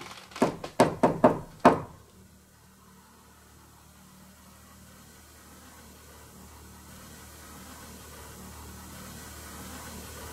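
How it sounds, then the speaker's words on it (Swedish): Five quick, sharp knocks rap out in a fast sequence inside the Sandträsk Sanatorium, then give way to a low, steady background hum. "Kan du knacka så här?"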